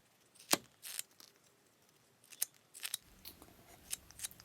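A carving knife slicing into wood while shaping a pinecone ornament, producing sharp, close scraping cuts in irregular bursts separated by quiet pauses.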